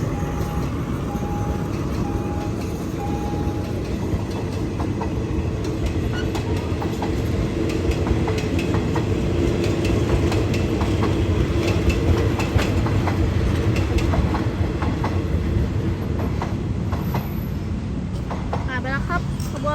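An ordinary passenger train hauled by an Alsthom diesel locomotive rolls past a road railway crossing on Sri Ayutthaya Road, bound from Phitsanulok toward Bangkok. It makes a loud, sustained rumble with clickety-clack wheel beats, and a voice talks over it.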